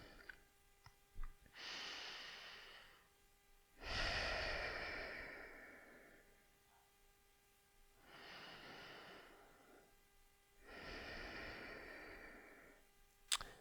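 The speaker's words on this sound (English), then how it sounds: "all I have to do is take some inhales and exhales" Deep, slow breaths during a shoulder pain-relief exercise, four long airy inhales and exhales spaced a couple of seconds apart, close and fairly quiet with pauses of near silence between them.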